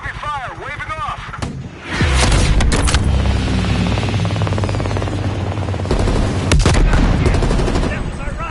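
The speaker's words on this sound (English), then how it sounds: "Taking heavy fire, waving off." Heavy video-game gunfire in a UFC 4 match: dense, loud automatic bursts with booming impacts that erupt suddenly after a quieter opening and keep rattling close and continuous, with radio-style voices over the combat.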